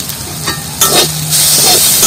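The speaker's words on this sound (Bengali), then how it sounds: "আর গোলমরিচের গুঁড়োটা ভাজার মধ্যে সব জায়গায় এভাবে মিশিয়ে নেব।" Black pepper powder is stirred into frying turmeric flowers in a pan, a close sizzle with scraping spoon strokes that swells in bursts, no talking.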